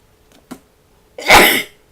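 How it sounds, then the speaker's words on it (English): A single loud sneeze bursts out near the mic after a faint catch of breath, sharp and breathy, with silence around it. "I think I'm going to sneeze any second."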